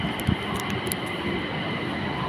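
A BTS Skytrain train passes on an elevated line in Bangkok, a steady rumbling rail roar that holds near and even throughout with a few brief clanks, no talking over it.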